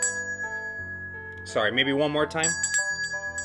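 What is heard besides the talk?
ringing a small magic trick bell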